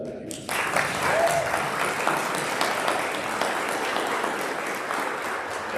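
Sustained applause from an audience at an executive directors' awards ceremony honoring an award winner, a dense, steady clapping wash that fills the room after a short moment of quiet.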